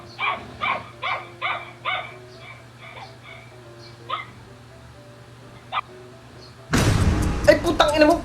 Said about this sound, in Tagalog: Kaya pala nag-iingay aso namin.